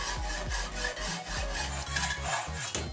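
Hacksaw cutting through an aluminium profile for a mini computer case, quick back-and-forth rasping strokes in a steady rhythm, close and fairly quiet, with no voices.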